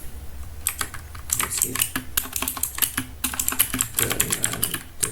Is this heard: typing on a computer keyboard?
yes